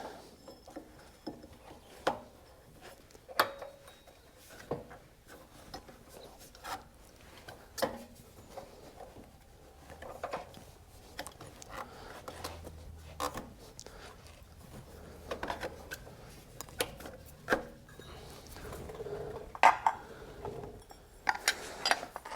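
A drive belt is worked onto the clutch of a Coleman KT196 go-kart, with a long stretch of close, scattered clicks, rattles and small metallic knocks of parts being handled.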